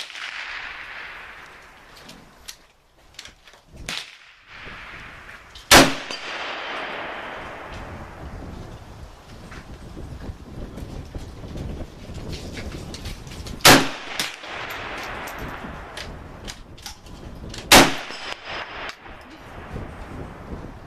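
Shots from a Hungarian AMD 65 rifle striking steel targets outdoors: a few sharp, loud cracks spaced several seconds apart, separated by quieter stretches of ambient noise and faint clinks.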